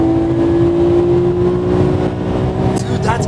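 JDM car engine pulling hard in third gear at speed, a loud steady droning tone heard from inside the cabin with road rumble beneath and a brief whoosh near the end.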